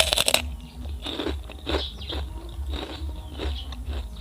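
Close, crisp crunching comes in a series of separate bites and chews as someone eats spicy chicharon from Carcar. The setting is quiet and there is no talking.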